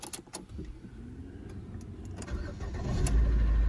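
A Ford Focus MK2 engine cranks briefly and catches after a battery replacement, building into a steady idle heard close up.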